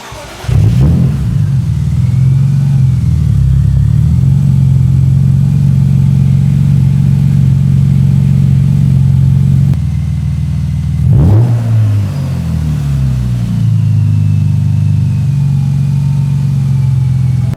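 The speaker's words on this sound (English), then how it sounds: "Let's go ahead and fire it up and see how the new plugs sound." A BMW six-cylinder engine, just fitted with new spark plugs, cranks and fires up, then settles into a steady, loud idle with a couple of brief revs, heard close up with no talking.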